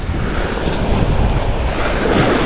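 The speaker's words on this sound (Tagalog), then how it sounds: "Habang nandito tayo sa gilid ng dagat oh" Sea waves breaking along a shoreline where the water is shallow near the edge, a steady broad roar of surf mixed with wind buffeting the microphone, continuous and fairly loud with no voices.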